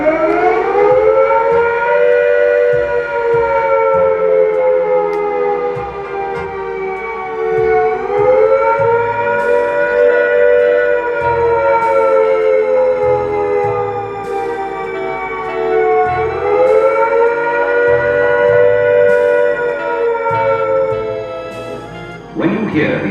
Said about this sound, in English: What the air attack warning sounds like. This is the sound.